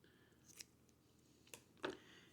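Scissors snip crochet yarn, with a few quiet, sharp cuts spaced apart, the last one slightly louder, in a hushed room.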